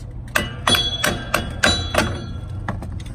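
Hammer blows strike a stuck part during a wheel cylinder replacement on a 2002 Dodge Durango, about six sharp metallic smacks in quick, uneven succession, close and fairly loud.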